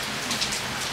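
Heavy rain pours steadily and close by, a dense continuous hiss of drops on surfaces with no talking heard.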